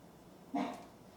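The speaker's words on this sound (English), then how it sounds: "I'm sorry if you can hear my dog complaining in the background." A dog indoors lets out a single short whining bark, faint and somewhat distant, against quiet room tone.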